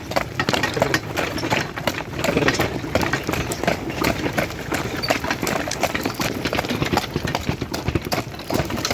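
A Percheron horse walks uphill on an autumn outing, its hooves clip-clopping in a steady, close rhythm over a constant loud rumble. No voices are heard.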